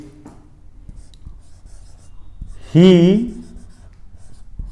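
A pen writes an English sentence by hand during a Hindi-language grammar lesson, producing soft, close scratching strokes, with a single brief spoken word in the middle.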